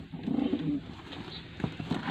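Pigeons at a Lahore loft coo in low, soft rolling murmurs, several overlapping calls close by against a faint ambient background, with no voices.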